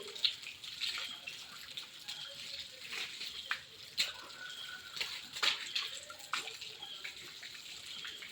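Water splashes and pours in short intermittent bursts, close by, with dripping and sloshing between the pours and no talking.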